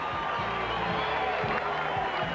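A capacity boxing arena crowd of 15,000 at Caesars Palace cheers Sugar Ray Leonard as he climbs into the ring, a dense continuous roar with a commentator's voice speaking over it.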